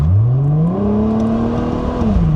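A Chrysler Prowler accelerates close by, its engine note rising in pitch, holding steady, then dropping as a gear changes, with a loud whirring drone throughout and no talk.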